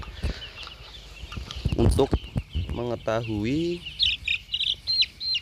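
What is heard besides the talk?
broiler chickens clucking and chirping in a coop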